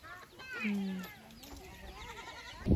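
Goats on a farm bleat in wavering calls nearby, one loud and drawn-out, the others softer, with a voice talking over them and a thump at the end.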